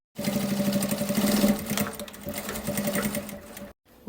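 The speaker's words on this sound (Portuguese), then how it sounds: "o calcador vai estar deslizando na lateral do tecido e a gente faz o pesponto" A sewing machine topstitching fabric runs in a fast steady whir, close and clear for several seconds, then stops abruptly.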